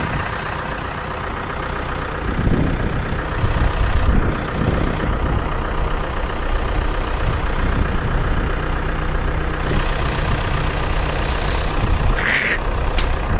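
A farm tractor reverses slowly with a long load, its heavy diesel engine rumbling steadily and loudly nearby for the whole stretch, with occasional clanks and surges.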